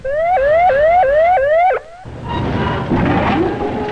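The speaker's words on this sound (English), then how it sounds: "Warning devices such as horns, sirens, or loudspeakers must be used to alert all personnel" A loud electronic warning siren whoops in rapid rising sweeps, repeating several times before cutting off, followed by clattering, noisy background activity.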